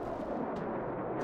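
Artillery firing in the World War Armies video game, heard as a dense, loud, continuous booming rumble that fills the moment without any voices.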